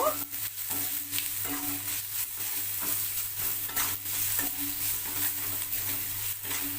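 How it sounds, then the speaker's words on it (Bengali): Spice mix of turmeric, chili, cumin, coriander and salt being stirred in a hot pan for chicken, a constant close sizzle cut by rhythmic scraping strokes of a spoon against the pan; no voices. "এই মশলার মিশ্রণটি হলুদ লঙ্কা জিরে ধনে আর নুন দিয়ে দিলাম দিয়ে এটাকে আমি খুব ভালো করে একটু নাড়িয়ে নেব"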